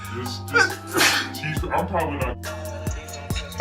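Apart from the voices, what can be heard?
person sneezing while dyeing hair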